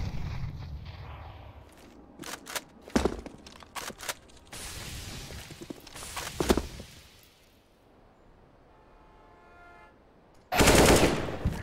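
Counter-Strike match gunfire on the Train map: several sharp, loud shots and short bursts spaced across the stretch, with a quieter pause before a final dense burst at close range.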